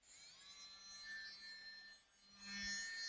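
A small battery-operated electric eraser with a little rubber tip runs continuously with a high, thin motor whine that shifts in pitch partway through, close and fairly quiet.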